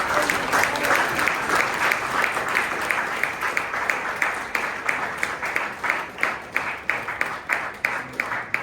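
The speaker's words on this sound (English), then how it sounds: "Please join me in giving a warm round of applause" Steady, dense applause from a crowd fills the space, many hands clapping continuously at an even volume throughout.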